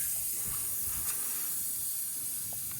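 Air hisses in a steady, faint, continuous stream from a leak in a compressor or its small line, with no talking.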